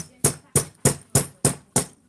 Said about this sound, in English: I'm just gonna use my rubber mallet.